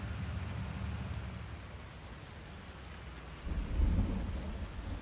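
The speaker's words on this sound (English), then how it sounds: "Looks like we're going to have some seriously heavy rain." Heavy rain pours steadily in the Farming Simulator 19 video game, and a deep roll of thunder swells near the end over the continuous hiss of the downpour.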